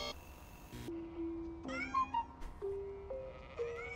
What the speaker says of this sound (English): It looks like this kitten is all by herself.